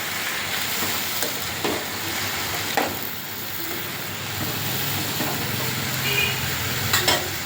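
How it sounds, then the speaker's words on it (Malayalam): Potatoes tossed with salt in a hot pan, a steady sizzle running throughout with occasional soft scrapes and knocks from stirring, close and moderately loud, no talking. "നല്ലോണം ഇളക്കി മിക്സ് ചെയ്ത്"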